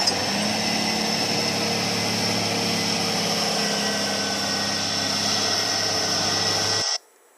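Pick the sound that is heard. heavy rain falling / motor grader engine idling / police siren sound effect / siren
motor grader engine idling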